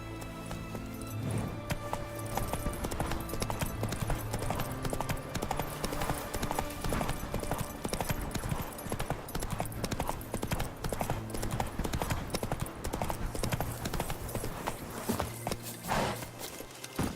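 Steady clip-clopping horse hooves while riding in The Witcher 3 video game, continuous rhythmic hoofbeats at a moderate pace, close and even, with faint background game sounds.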